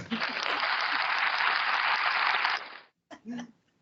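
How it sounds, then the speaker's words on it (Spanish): A short burst of recorded applause welcomes a guest, a bright even wash of clapping that cuts off abruptly after a few seconds, followed by a brief spoken voice. "Un aplauso."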